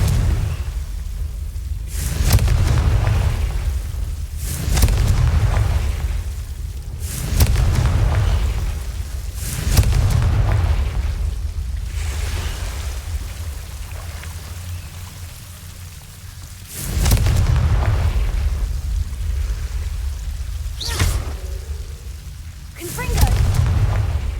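Repeated Confringo fire spell blasts in Hogwarts Legacy, deep booming explosions arriving in a slow irregular series, each swelling and fading, loud and close.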